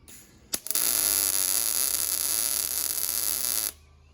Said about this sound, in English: we'll get some welding going